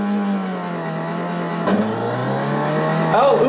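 A race car engine from the Al Unser racing game drones steadily and loudly, sagging in pitch at a shift before surging upward again near the end.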